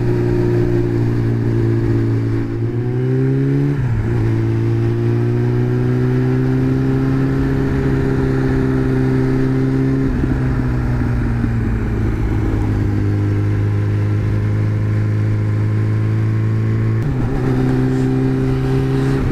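A motorcycle rides the road through the Grands Goulets gorge, its engine humming close and steady, climbing in pitch through the gears with brief shift dips and slight revs, with no talk.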